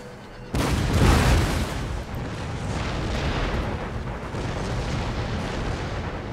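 An artillery battery opening fire in the Empire: Total War siege of Charleston, a sudden loud volley of cannon booms that rolls into a sustained, rumbling roar of continued fire and echoes.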